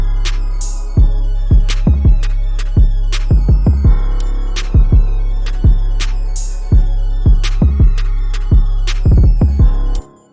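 A trap beat built in FL Studio with a booming 808 bass, JR Cartel perc hits and claps. It bounces in a steady syncopated rhythm of sharp transients over a sustained low end and ends abruptly.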